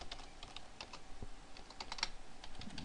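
Quiet, close computer keyboard typing, a quick irregular run of soft key clicks entering a folder name on a PC, with no one speaking.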